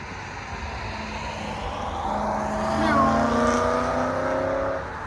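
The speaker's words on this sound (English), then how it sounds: "here comes a nice Porsche." A Porsche sweeps past a spectator spot at the Nürburgring, its engine note rising as it closes in, peaking loudly, then falling away as it recedes.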